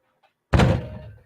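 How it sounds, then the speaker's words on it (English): A head banging on an office desk lands in one loud, close, heavy thud, followed by a short ringing decay, with brief faint noise beforehand. "And now I'm banging my head on the desk."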